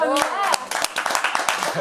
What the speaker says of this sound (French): je crois qu'on peut applaudir Enzo quand même